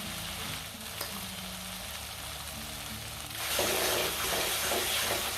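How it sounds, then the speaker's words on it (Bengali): Masala with whisked yogurt, slit green chilies and salt sizzles gently in a pan on low flame, a soft steady crackle that swells into a louder, busier fry partway through. "লো ফ্লেমে একটু ভালো করে কষাবেন।"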